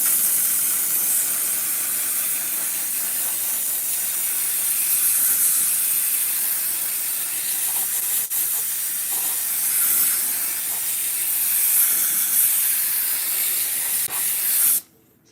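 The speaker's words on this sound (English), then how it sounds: "I never spray the whole piece of material at one time" Spray adhesive hissing from a can onto wrapping material for pillars, a long continuous airy spray held nearly steady with slight swells, ending abruptly after about fifteen seconds with a short clatter.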